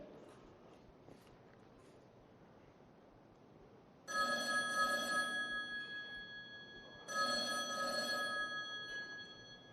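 An old landline telephone bell rings in two separate bursts, each a long, bright metallic trill with sustained tones that fades slowly, heard over a quiet room.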